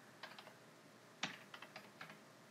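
Keystrokes on a computer keyboard while a password is typed, about eight quiet, irregular taps at close range with one sharper press, no voices.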